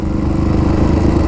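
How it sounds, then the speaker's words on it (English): A Yamaha Raptor 734 quad's engine bangs against its rev limiter, a loud, close, steady buzzing drone with a rapid stuttering pulse throughout the brief burst. "You hear him hitting that rev limiter?"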